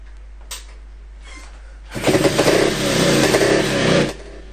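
A small James Cadet motorcycle engine fires up after a couple of faint ticks and clicks, then runs with a loud, close, buzzing two-second burst of revving before cutting off abruptly.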